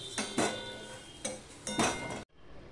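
Fried potatoes are lifted from a pan into a bowl, with a few sharp metallic clinks and scrapes of a utensil against cookware in quick bursts, close and fairly quiet, ending abruptly.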